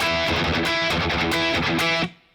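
A distorted electric guitar strums a song at a faster speed, a dense burst of chords for about two seconds that ends in a ringing decay.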